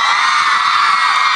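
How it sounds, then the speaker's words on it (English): A concert crowd screams at full volume in one sustained, dense roar of many voices, loud and continuous from start to finish. "If y'all trying to lose your voice for me tonight, let me hear you scream."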